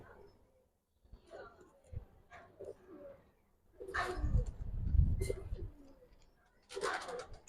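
Giribaz pigeons give low cooing calls under intermittent nearby talking, with scattered rustling and handling noises.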